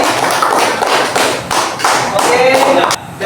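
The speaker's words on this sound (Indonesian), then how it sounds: "Tepuk tangan untuk anak-anak semuanya." An audience of children and adults in a classroom claps in uneven bursts, with thumps and overlapping voices, fairly loud and close throughout.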